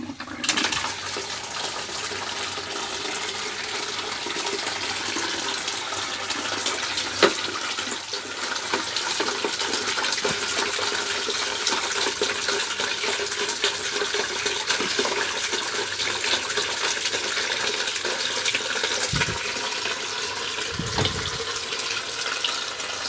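Water rushes steadily through resin in a water filter exchanger during rinsing, a constant close hissing flow with a few faint knocks, no voices.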